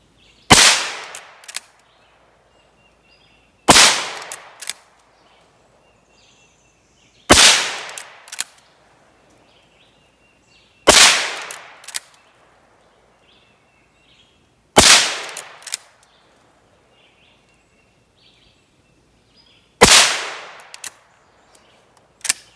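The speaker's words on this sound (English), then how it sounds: "I'm going to shoot a little more and really enjoy this" A Henry .22 Magnum rifle fires six sharp, loud shots spaced a few seconds apart outdoors, each followed by a brief echo and a clatter as the lever is worked, with faint birdsong in the quiet gaps.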